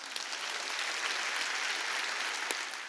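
A large church congregation claps continuously during a Korean Wednesday worship service, a dense, steady wash of applause lasting the whole moment.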